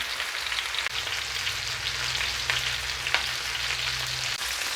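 Chicken pieces fry and brown in a pan for dinner, giving a steady, close sizzle with faint crackles throughout and a low hum underneath.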